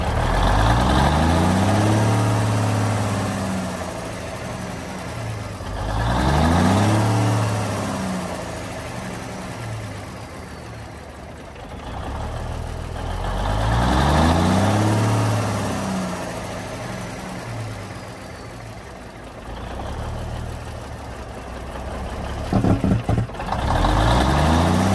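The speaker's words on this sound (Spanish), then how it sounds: "Ahora también les vamos a mostrar cómo está funcionando el freno de motor" A classic Kenworth W925 truck's diesel engine rises and falls in loud, close revving sweeps, with a deep rumbling engine brake and a brief rattling burst near the end.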